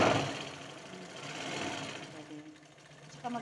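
Portable sewing machine stitching on a tabletop, a close, fast, even mechanical whirr that rises and eases over a few seconds and then trails off.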